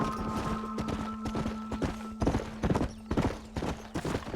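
In the video game Red Dead Redemption, hooves clip-clop unevenly over a steady background tone, several horses walking at close range with irregular knocking steps.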